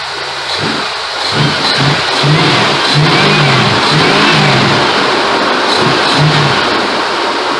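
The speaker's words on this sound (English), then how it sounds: "I'll rev it up for you." A V8 engine with a Holley carburetor and high-rise intake manifold idles with a deep burbling rumble, then revs up and holds higher before easing back, loud and close.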